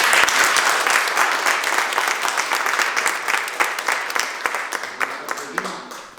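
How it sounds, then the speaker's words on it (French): An audience applauds at a ceremony, a dense burst of clapping that starts loud and gradually thins out into scattered claps, with some voices underneath. "le mérite il revient un grand applaudissement à Moura Korim"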